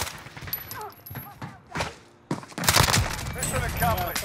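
Call of Duty Modern Warfare gunfire on Rebirth Island comes as sharp bursts and rattling volleys, some close and loud, mixed with speech and game noise.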